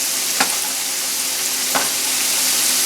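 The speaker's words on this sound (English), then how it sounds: "Actually, should I just dump the oil in there?" Oil sizzling and frying in a hot pan while cooking jaegerschnitzel, a steady loud hiss with two brief crackling pops, close up and alone.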